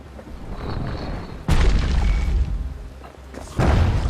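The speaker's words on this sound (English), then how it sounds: "Hand grenades." Hand grenade blasts in the video game Bastion: two heavy booming explosions roughly two seconds apart, each a sudden loud thud with a rumbling tail, set over a continuous background game soundscape.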